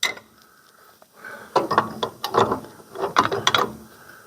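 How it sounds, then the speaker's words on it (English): Ratchet clicking as it loosens a bolt on a 1963 Corvair Custom engine, with several bursts of close metallic ratcheting and mechanical clatter following a brief quiet start. "Put my ratchet on there, and I got her loose."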